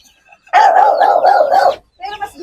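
A dog barks in one loud, rapid burst close by, followed by a brief fainter yip.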